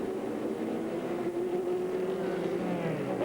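Race cars from a 2001 American Le Mans Series event drone past in a steady, slightly distant engine roar, a continuous blended pack sound without distinct individual passes.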